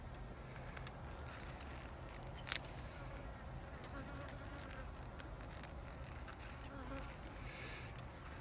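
Honey bees hum and buzz softly around an open new hive with sugar feeding, a steady faint drone with occasional closer passes and one brief click.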